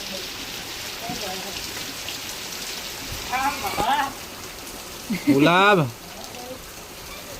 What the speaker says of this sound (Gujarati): જો બાર વરસાદ ચાલુ છે